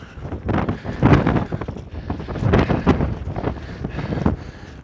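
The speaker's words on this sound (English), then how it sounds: "I really hope you can hear this wind." Strong wind gusting outdoors, loud buffeting noise surging in waves across the mic with no talking.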